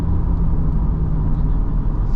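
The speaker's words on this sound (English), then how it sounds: "I love that I hear the engine in the back and I get this push from the engine" A 2020 Corvette C8 Z51 being driven, its rear-mounted engine giving a continuous, close, low rumble and steady drone heard from the cabin.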